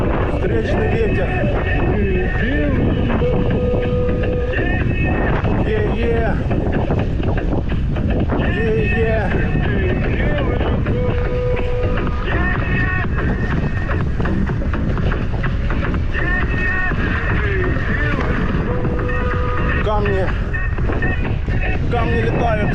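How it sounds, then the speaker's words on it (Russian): Loud, constant headwind roaring across the microphone throughout, with a voice speaking now and then beneath the buffeting, in summer in Crimea. "Да, ветер, капец. Везде ветер."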